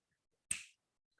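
A single sharp finger snap, close and isolated in an otherwise quiet room, with a quick decaying tail.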